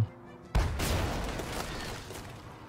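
A single heavy boom of a ship's side cannon in a sailing video game erupts after a brief quiet moment, then a long rumbling decay fills the rest of the clip.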